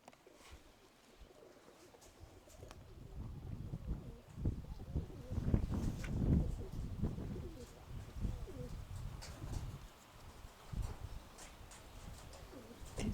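Pigeons coo and flutter around outdoors while being trained, with a voice talking over them and some scuffling noises.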